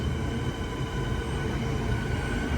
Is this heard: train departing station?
yes